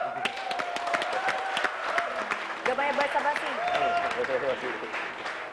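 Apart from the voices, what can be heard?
audience applause on a TV show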